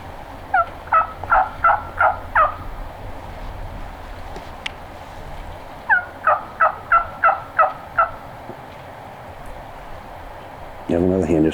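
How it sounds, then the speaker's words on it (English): A wild turkey gobbles twice in the woods, each a rapid rattling burst of about six notes, moderately distant, and a brief sound comes near the end. "Straight down there where he was gobbling."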